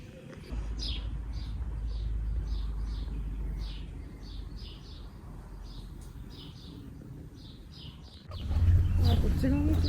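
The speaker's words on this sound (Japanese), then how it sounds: "鳥さんの音しかしない。" Small birds chirp in a quiet village in short, repeated bursts, with distant pigeons cooing and a low steady rumble underneath; the scene shifts abruptly near the end to louder rustling and movement.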